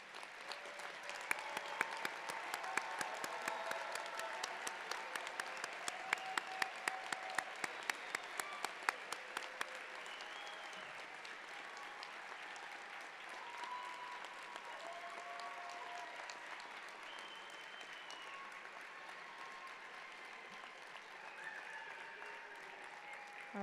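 A graduation convocation audience for College of Engineering Bachelor of Science graduates breaks into sustained applause: dense, crisp clapping is loudest for the first ten seconds, then settles into a steady, slightly softer roar of hands that carries on to the end.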